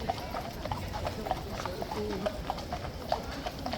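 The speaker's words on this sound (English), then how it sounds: "Those are not the only police horses in riot kit either." Hooves of police horses in riot kit clop steadily on a hard street, a brisk even rhythm at moderate distance, over a murmur of crowd noise and a voice talking.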